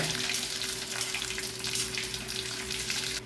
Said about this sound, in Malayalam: അതിൽ ഇതാ അത് ചൂടായ ശേഷം കടുക് കടുക് ഇങ്ങനെ പൊട്ടട്ടെ